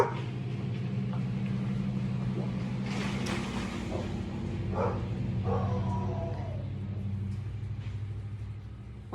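Dogs guarding a rural property let out a few short barks midway over a constant low engine-like rumble, with a voice briefly present.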